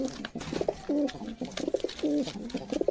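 Soft repeated cooing from pen-kept flying pigeons, a few rounded throaty phrases with brief pauses between, heard up close without any talking.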